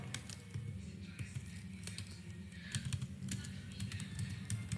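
Rapid, steady keystrokes on a computer keyboard while switch configuration commands for VLAN and trunk ports are typed, close by with a low background hum.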